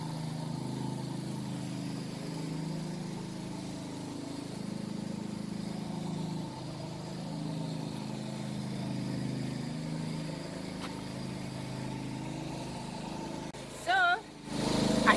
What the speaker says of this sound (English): The generator is on, so much noise.